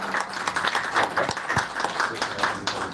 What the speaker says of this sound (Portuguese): Uma salva de palmas para vocês.